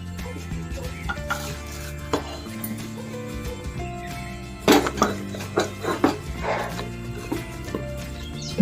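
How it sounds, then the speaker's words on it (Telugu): Flour is stirred into hot jaggery syrup in a pan, with a ladle scraping and clinking in irregular bursts over a steady low background hum. "పాకంలోని పిండి వేస్తూ కలుపుతూ ఉండాలి."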